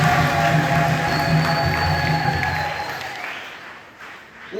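A church congregation claps in thanks during a sermon, a broad wash of applause with faint voices mixed in that swells briefly and then thins and fades over a few seconds.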